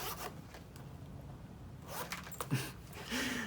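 A smooth zipper on a handbag organizer for a Louis Vuitton bag is pulled in a few quick strokes, close by and fairly quiet, with light rustling of fabric around it.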